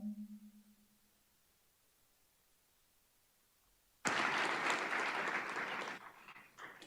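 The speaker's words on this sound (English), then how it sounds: "please join me in a round of applause" An audience at a startup demo day breaks into sudden, loud applause welcoming a speaker to the stage, clapping steadily for about two seconds before it thins out and fades, after a quiet stretch with a brief tone.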